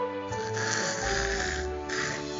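A cartoon character fast asleep snores in long, slow, rasping breaths with a soft whistling tone, heard close and alone.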